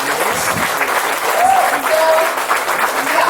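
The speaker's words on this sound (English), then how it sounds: "So this is basically called clapping" An audience at a dance studio recital clapping, a loud, steady wash of many hands applauding together with a few voices mixed in.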